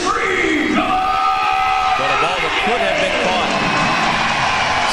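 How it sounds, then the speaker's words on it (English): A roaring football crowd at a high school game keeps up a loud, continuous din of shouts and cheers, with a few whistles and voices rising out of the noise. "The crowd getting very loud in here."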